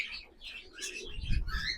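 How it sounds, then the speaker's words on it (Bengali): Black Jiriya pigeons at a loft, faint soft cooing and chirps repeating in short phrases over a low rustle, fairly close, no talk. "জিরিয়া পায়রা, এই যে পায়রা"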